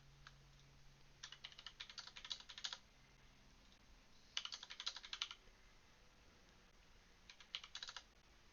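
Bursts of quick, close computer keyboard typing as network addresses are entered, three separate clusters of clicking keystrokes with quiet pauses between them and no talking.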